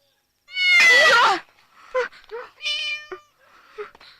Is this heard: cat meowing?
yes